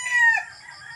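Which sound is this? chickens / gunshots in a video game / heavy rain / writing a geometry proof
chickens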